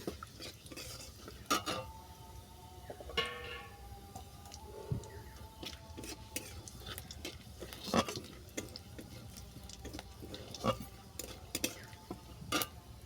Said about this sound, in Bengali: আর দিচ্ছি পাঁচ ফোড়ন ফোড়নটাকে ভালো করে ভেজে নেব